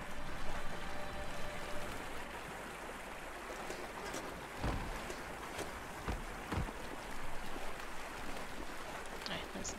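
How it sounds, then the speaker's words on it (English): Waterfall in the video game Biomutant: a steady, full rushing of falling water fills the scene continuously, with occasional louder splashes and soft game sounds over the constant roar. "There's always something behind waterfalls, as Lily says."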